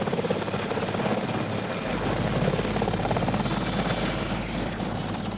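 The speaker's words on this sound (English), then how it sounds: "Visitors to Tresco usually arrive by a helicopter." A helicopter roars loudly and close by at the Tresco heliport in the Isles of Scilly, its rotor thudding in a rapid, steady beat that grows fuller partway through.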